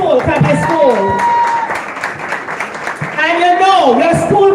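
A school audience at a Heritage Day event claps and cheers for their own school, a dense, loud patter of hands mixed with shouting voices that swells, dips midway, then rises again.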